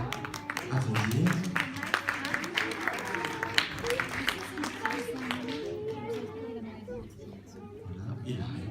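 Audience at a short-film screening applauding a director as he comes on stage, steady clapping mixed with crowd chatter and voices, thinning out toward the end.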